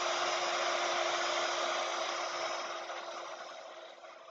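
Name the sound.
heat tool melting embossing powder on an art stamp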